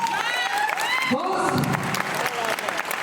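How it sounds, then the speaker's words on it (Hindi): A crowd at a sales-network motivational speech event claps steadily, with cheering and whistles, while amplified voices and tonal sounds ring out over the applause. "जोरदार तालियां"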